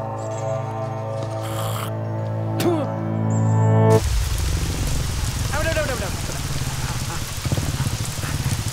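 Steady rain patters and hisses in an unbroken wash, taking over sharply after a hum-filled stretch with a few brief noises, and continuing loud and close to the end.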